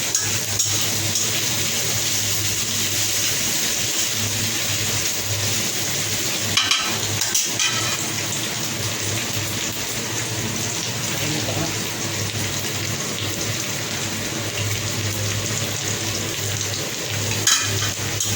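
Vegetables fry in a large kadai before pasta noodles are added, giving a steady, fairly loud broadband sizzle throughout with a couple of brief clatters from stirring.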